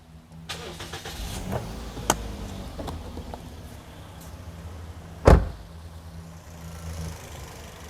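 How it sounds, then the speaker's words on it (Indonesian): A 2010 Toyota Vios with automatic transmission sits in an otherwise quiet space as small clicks and a thump sound, followed by a loud, brief crank as the engine starts and then settles into a steady low idle. "Nah, kita start mesinnya."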